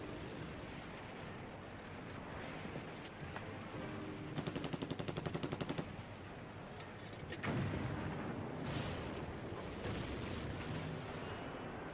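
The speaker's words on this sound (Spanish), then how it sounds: "Los australianos luchan fuertemente apoyados por los disparos de los tanques estadounidenses." Korean War battle sounds of US tank gunfire and artillery supporting Australian troops: heavy booming blasts and a rapid rattling burst of automatic fire, with rumbling explosions echoing in the distance.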